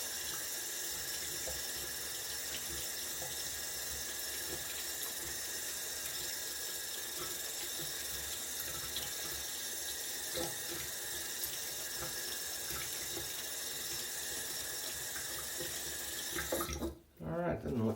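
Tap water runs steadily into a sink to wet a badger hair shaving brush, a constant close hiss throughout with faint clicks, briefly disturbed near the end.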